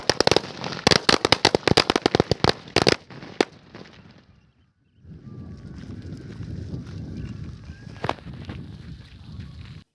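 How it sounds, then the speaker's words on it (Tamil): Lakshmi brand firecrackers from Sivakasi set off outdoors: a fast, loud string of sharp bangs and crackles lasting about three seconds, then a fading rumble and quiet, followed by distant background noise with one more faint pop. "சரி, எப்படி வெடிக்குதுங்கிறத டெஸ்ட் பண்ணி பார்க்கலாம்."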